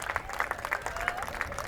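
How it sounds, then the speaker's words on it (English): Fans clap and applaud at a Somerville girls' lacrosse Senior Day game against Medford, a steady outdoor patter of hands with scattered voices and some speech mixed in. "As you see the Somerville Highlanders coming to applaud their fans as well"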